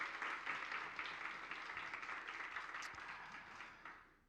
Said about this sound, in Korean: 마음으로 큰 박수 한번 보내도록 하겠습니다